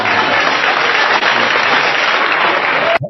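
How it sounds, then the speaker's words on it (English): A television studio audience applauds in a dense, steady burst of clapping that stays loud and uniform for about three seconds, then stops abruptly. "Why are they clapping?"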